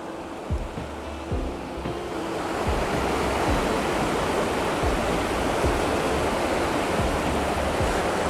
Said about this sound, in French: En bas de la cascade.